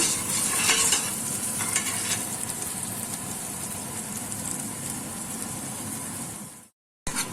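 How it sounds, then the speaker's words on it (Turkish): Diced potatoes stirred and scraped in a pot with peppers, a steady sizzle underneath, continuous and close, ending in a brief silence before a short burst. "Güzelce karıştıracağım."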